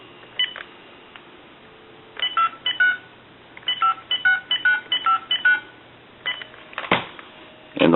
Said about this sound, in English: Now we can call one other number.